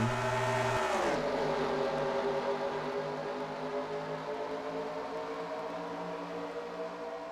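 Stock cars in a racing video game at Charlotte drone at high revs as a steady, layered engine roar. The pitch drops sharply once early on, then the pack holds a constant buzzing whine.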